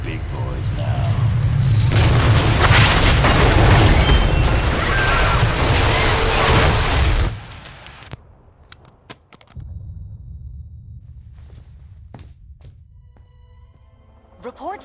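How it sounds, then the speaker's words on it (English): A massive explosion in the video game Marvel Ultimate Alliance 2 sets off a loud, sustained roaring blast and rumble for several seconds, then cuts off to a quieter scene scattered with faint crackles and debris. "indicate a massive explosion in a residential neighborhood"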